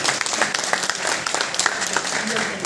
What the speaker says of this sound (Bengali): জোরে হাততালি এই কারণে প্লিজ।